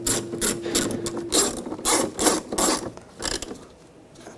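Screws being driven and tightened into the door switch trim of a 2009-2017 Volkswagen Tiguan during a power window switch replacement: close, bursty ratcheting and rasping turns in short repeated strokes, no talking.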